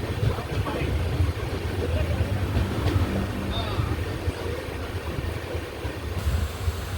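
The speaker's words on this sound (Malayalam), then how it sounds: "പ്ലാറ്റ്ഫോം നമ്പർ 2-ലേക്കാണ് ട്രെയിൻ വരുന്നത്." Island Express train rolling into platform 2 at Neyyattinkara station, a continuous low rumble and rattle with a steady rushing hiss, heard close by while someone talks over it.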